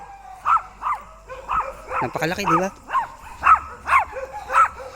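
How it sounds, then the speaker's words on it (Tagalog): A guard dog that watches over the chickens barks repeatedly at close range, about ten sharp evenly spaced barks with a brief flurry in the middle, while a person speaks briefly. "Tinatahulan niya ako."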